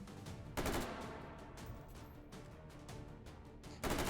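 Sniper rifle shots in Hot Dogs, Horseshoes & Hand Grenades, two loud booming reports a few seconds apart, with quieter rapid gunfire crackling in between.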